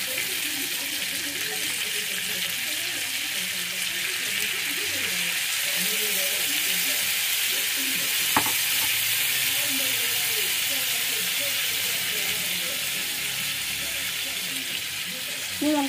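Leftover masala poured over pineapple grill-frying on a BBQ, giving a steady, dense sizzle and hiss throughout, with faint stirring and a soft clink partway through.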